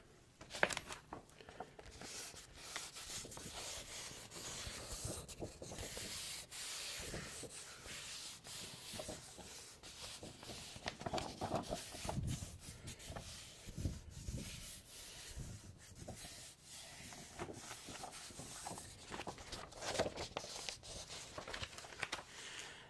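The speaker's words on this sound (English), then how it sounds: "You know, I've never done page turning on my channel. That's one trigger that I've never done. Page flipping." Thick, almost cardboard-like paper pages of a book are flipped and rubbed up close for ASMR, giving soft continuous rustling and brushing textures with occasional crisper flicks, intimate and quiet throughout.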